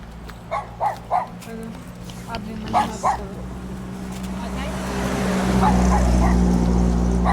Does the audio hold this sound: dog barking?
yes